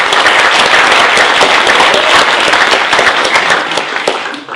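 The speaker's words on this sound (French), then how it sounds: "C'est bien sûr Christine Redodin, je vous demande de l'applaudir, s'il vous plaît" Sustained audience applause at a municipal election list presentation for Talant in 2014, dense and loud throughout, tapering slightly at the end.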